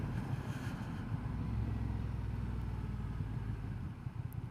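A Honda Transalp XL750 motorcycle is ridden along with a steady engine drone and heavy wind rumble, loud and continuous for the whole stretch, with no one talking.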